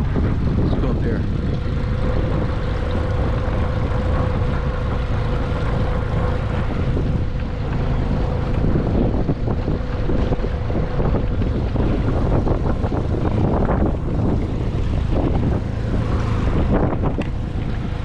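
Strong wind buffets the microphone beside a Saturn 12-foot heavy-duty fishing boat, a loud continuous roar with gusty swells, a low hum underneath and someone talking briefly.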